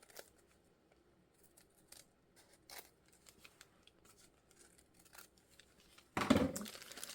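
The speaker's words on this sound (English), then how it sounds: "So I'll just show you what I'm trimming off." Small scissors snip paper pieces for a junk journal notebook, giving quiet, close, scattered cuts followed by a louder burst of rustling and crinkling near the end.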